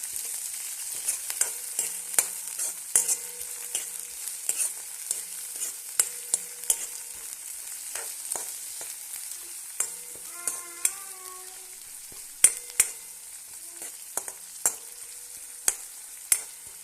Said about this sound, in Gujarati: તેલમાં થોડીક વાર સાંતળવા દઈશું એને